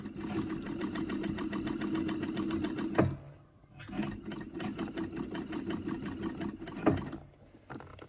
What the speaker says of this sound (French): Là, je suis en train de coudre les épaules.